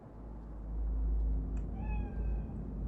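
A cat spirit, a bakeneko in Cyberpunk 2077, lets out a single clear meow partway through, heard alone over a steady low game hum.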